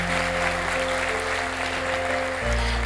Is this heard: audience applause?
yes